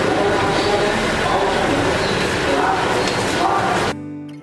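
Steady rumbling roar of a Blue Line subway train in motion, loud and continuous, cutting off abruptly near the end.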